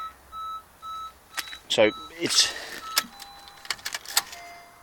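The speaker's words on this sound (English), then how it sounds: "That's the headlight warning buzzer." A car's headlight warning buzzer sounds after the key is pulled from the ignition: two short, steady electronic beeps, fairly close. Then someone talks over clicks and rustling.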